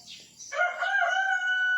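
A rooster crows loudly in one long, drawn-out call at close range, with faint farm chickens in the background just before it.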